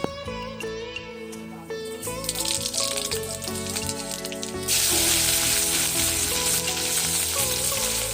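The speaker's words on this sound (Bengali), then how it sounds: "তো চলো এদিকে ফুলকপি আর আলুটা ভেজে নিই।" Cauliflower and potato frying in a pan give a steady sizzle under a bed of soft background music, and the hiss grows noticeably brighter and louder partway through.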